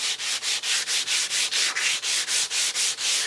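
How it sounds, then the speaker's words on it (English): Wood moulding is hand-sanded with 80 grit sandpaper in a quick, even back-and-forth rhythm of about a dozen close, raspy strokes, with no talking. "we're just going to finish up with some sandpaper"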